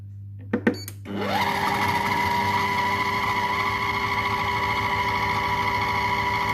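Compact Cook Pro multicooker mixing marshmallow mixture with gelatin at speed 4, a loud steady motor whir with a constant tonal hum that starts after a couple of brief clicks and holds evenly to the end.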